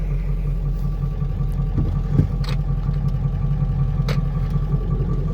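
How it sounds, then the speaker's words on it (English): An engine idles steadily after about fifteen minutes of warming up before hauling a load of fill, a continuous low rumble with a few light clanks and no talking. "127 degrees, so the engine's warm enough."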